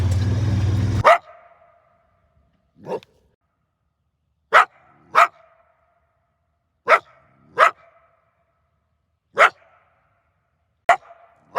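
A trapped coyote barks and yelps in short, sharp bursts, about eight of them spaced a second or two apart, loud and close, after a brief burst of rushing noise at the start.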